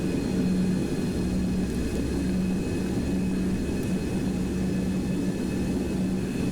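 A Boeing 727-100 taxis in the X-Plane 12 flight simulator, with a steady, loud jet engine roar and a low hum that hold for the whole stretch and carry no speech.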